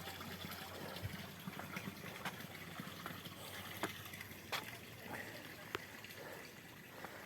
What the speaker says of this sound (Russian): По желобам 1, 2, 3 ручей стекают, видите? Объединяются вместе